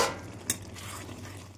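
Ridge gourd and fried potatoes are stir-fried in a pan, with a soft sizzle, a single scrape of a utensil against the pan, and a low, steady frying hiss close by.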